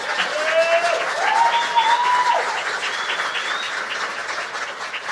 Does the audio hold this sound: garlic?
no